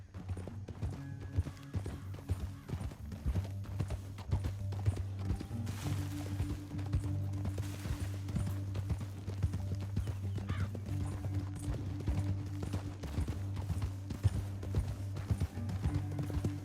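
Horse hooves galloping steadily for a long stretch in Red Dead Redemption 2, a continuous drumming clip-clop with a low rumble beneath, fairly faint and without talk.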